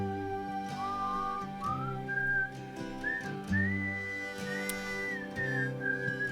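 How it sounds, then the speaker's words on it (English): A melodic whistled tune carries over a steady instrumental backing with regular beats in a pop song, each phrase sliding smoothly between notes. "The whistling is beautiful in the end"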